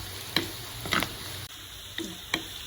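Onions fry in a pan for a Kerala-style fish curry, a soft constant sizzle with a few sharp ticks and scrapes from stirring scattered through it.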